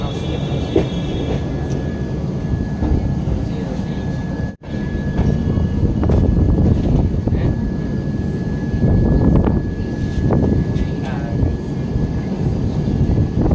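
Vivek Express passenger train running steadily, a continuous loud rumble of wheels and carriage noise with a brief dropout partway through and a faint steady whine above, no one talking.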